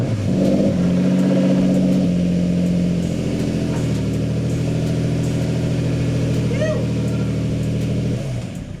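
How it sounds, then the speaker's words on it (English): A Nissan car with a VQ engine runs with a loud, steady mid-pitched engine drone that holds close throughout, with slight shifts in pitch and a faint chirp partway through. "I'm gonna go ahead and start it up so you know she runs."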